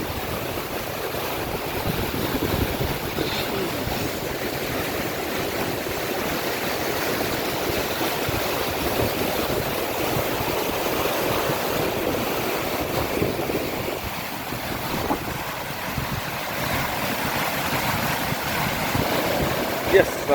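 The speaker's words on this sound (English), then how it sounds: "Listen to that water. Look how it just rips into the sand." Floodwater from the Garden Route floods rushing and ripping into sand, a continuous loud roaring wash of water with wind noise, steady and close throughout.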